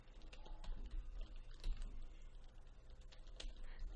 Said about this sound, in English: I'm just typing out some random stuff